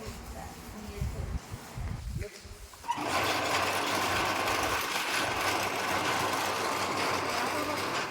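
A crane's engine kicks in after a few seconds of muffled voices and rumble, then runs as a steady, loud mechanical drone while it hauls a motor and pipes up out of a well.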